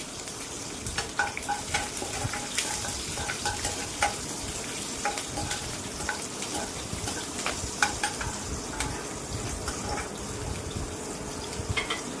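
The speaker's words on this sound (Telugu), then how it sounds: "ఇప్పుడు సన్నగా తరిగిన పచ్చిమిరపకాయ ముక్కలు వేసుకుందాము. ఇవి కొంచెం ఫ్రై అయ్యే వరకు వేయించుకుందామండి" Chopped green chillies frying with curry leaves for a Telugu-style crab curry give a steady close sizzle with frequent scraping stir clicks, running unbroken and without speech.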